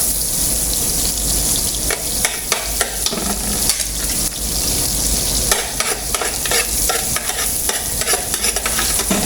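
Garlic frying in butter for beef tongue sizzles loudly and steadily in a pan, with frequent scraping stirs and taps of a utensil breaking through the constant hiss.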